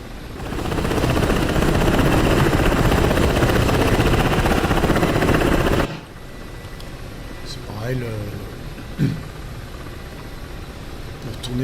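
A Ka-50 Black Shark attack helicopter in the DCS combat flight simulator roars with a loud, steady rotor and turbine drone for about six seconds, then drops to a quieter engine hum under a man's speech.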